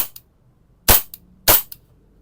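Airsoft gun firing two sharp, separate shots about half a second apart, each trailed by a faint mechanical click, close and loud against silence.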